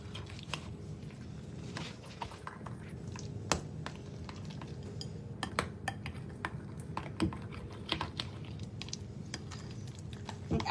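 Fork scraping and clinking against a bowl while dog training treat batter is mixed, a steady run of close, light taps and scrapes with no talking.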